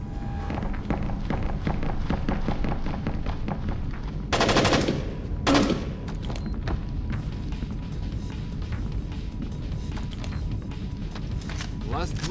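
Rapid turret gunfire in the Splinter Cell game during a mission at Kalinatek, a steady fast rattle of shots with a couple of louder bursts around the middle.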